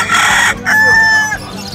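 A rooster crows once at a pet market in Obando, Bulacan, loud and close, a strained rising call following a short burst of clucking.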